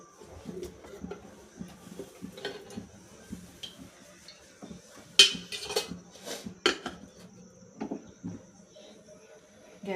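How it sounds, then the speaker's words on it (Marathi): A cooking pot set down on a gas stove in a home kitchen, with scattered metallic clinks, taps and knocks of cookware across the moment and faint background birds; oil added to the pan makes little distinct sound. "चला तर आता आपण गॅसवर पातेलं ठेवलं आहे"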